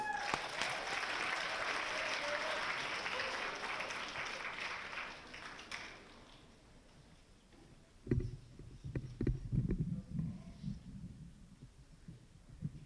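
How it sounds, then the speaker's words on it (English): Audience applause for a reciter at a poetry recitation contest, a dense wash of clapping that fades out after about six seconds, followed by quieter shuffling and brief voices near the microphone. "let's give a round of applause to Grant Perkin"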